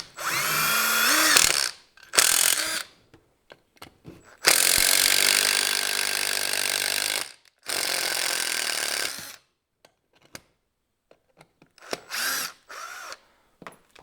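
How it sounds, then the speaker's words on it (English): Milwaukee impact driver driving a screw, several loud whirring, hammering bursts of a few seconds each with pauses between, the longest run near the middle, close and alone. "Puts that screw in it with no problem."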